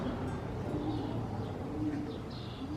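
Pigeons coo softly inside the old Goldfield Hotel in the Nevada ghost town, a few low, faint calls over quiet room ambience.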